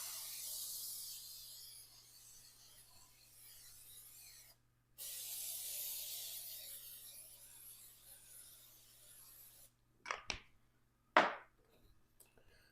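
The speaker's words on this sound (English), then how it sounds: "Give them another shot of Pam." Pam cooking spray shot into a baking pan: two sustained hissing sprays of a few seconds each, separated by a brief pause, followed by a couple of short clattering knocks near the end, close and quiet with no talk.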